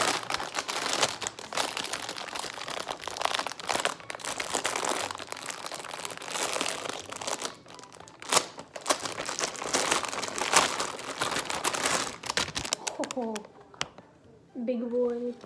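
Pokémon Center Sitting Cutie plush packaging being unboxed, with dense, close crinkling and crunching of plastic that continues throughout, pausing briefly near the end while a voice speaks.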